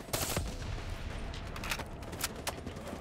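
Gunfire in Call of Duty: Black Ops 3, a run of sharp shots and bursts, some near and some farther off, crackling over a low battle rumble without speech.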